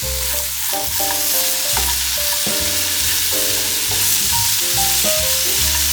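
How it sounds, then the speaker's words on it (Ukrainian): Sliced sausages and bread fry in a skillet with a constant bright sizzle, heard close under loud, steady background music. "Висипаємо нарізані сосиски, також їх трохи обсмажити."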